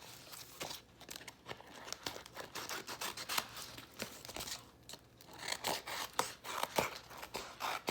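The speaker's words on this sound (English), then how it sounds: "I have to take off the extras bit of transfer tape." Excess transfer tape being peeled off holographic sparkle vinyl for a Cricut-cut shadowbox, a close series of soft crackling, sticky rips and crinkles in uneven bursts, no voices.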